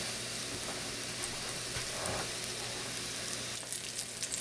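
Pork chops fry in a hot pan with a steady, dense sizzle and crackle that carries evenly throughout, loud and close, with no voices over it.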